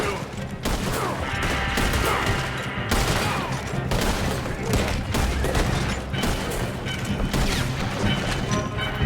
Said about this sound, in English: Shoot them, Arthur, before they blow us to high hell